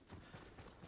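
Rapid rhythmic hoofbeats of a galloping horse in the video game Ghost of Tsushima, quiet and steady, with a faint low rumble underneath.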